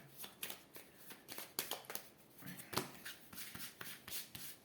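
Tarot cards shuffled by hand before a reading, heard up close as a quick run of papery riffling and slapping bursts with no voices.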